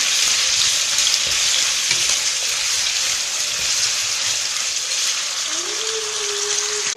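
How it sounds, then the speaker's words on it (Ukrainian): Steady, loud sizzling of pork frying in a hot sauté pan, a continuous crackling hiss throughout with no talking. "Жаримо наше м'ясо. Добренько зі всіх сторін."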